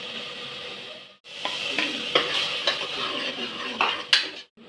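Neem leaves dropped into hot oil hiss and sizzle in a pan while a metal spoon scrapes and clinks against it, close and busy, with a short pause before the sizzling continues.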